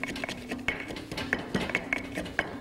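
Turmeric and sugar are mixed into a dry marinade with a pestle, giving close, irregular scraping and clinking taps against the bowl, fairly quiet, with no talking.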